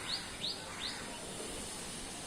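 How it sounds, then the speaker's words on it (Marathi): Three quick, high chirping calls from a common myna near a large peepal tree by a closed house, fairly faint and evenly spaced, over a quiet outdoor background. "हे बघा पक्षी साळुंकी बघा"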